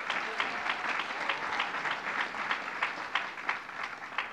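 An audience at Yeshiva University applauds during an announcement by the governor. Dense, steady clapping from a crowd goes on throughout, at moderate volume and somewhat distant, with no voice on top.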